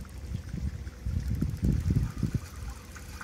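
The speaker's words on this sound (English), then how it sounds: "So the gray tank rinsing out will help wash debris down our pipe." Gray water from an RV tank rushes and gurgles out through a drain hose at a dump station, a close, steady low splashing flow with uneven surges and no talk.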